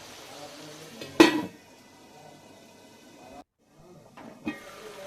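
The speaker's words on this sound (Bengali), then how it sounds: "মশলাটাকে আমি ঢাকা দিয়ে দিচ্ছি 1 মিনিট মতো" A metal lid clanks sharply down onto a pan of simmering spice paste for a fish curry, one loud close clatter followed by quieter sizzling and a second lighter knock, no voices.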